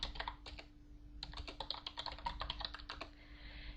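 Rapid typing on a computer keyboard, close and crisp clicks in quick bursts with short pauses between runs of keystrokes, no voices.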